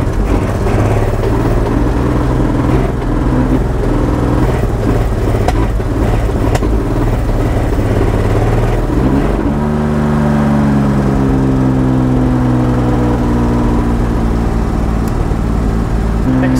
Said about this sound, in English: That's revving so high.